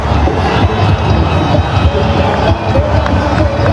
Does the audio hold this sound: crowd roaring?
yes